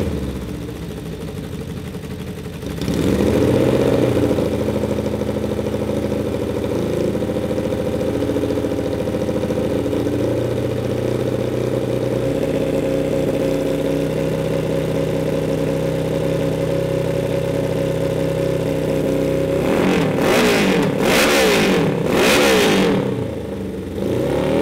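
A 550cc engine in a Little Tikes go kart runs on a dyno, a steady loud droning hum held at constant speed, ending in a few rough, sputtering surges near the end.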